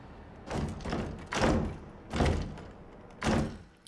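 Door thuds in the survival horror game Resident Evil 2, five heavy, evenly spaced knocks or bangs roughly every second, loud and close with no voices.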